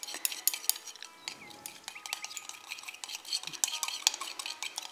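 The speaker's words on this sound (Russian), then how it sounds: "Хорошенечко перемешиваем, чтобы не осталось красителя." Melted soap base tinted with red dye is stirred briskly in a container, giving a steady run of close scraping and light clinking strokes with no voices.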